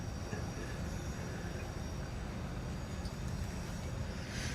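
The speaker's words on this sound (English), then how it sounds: "I hear another train." A distant train passes, heard as a faint, steady low rumble with light hiss that holds evenly throughout, in a garage setting during a Chevy 350 Vortec engine build.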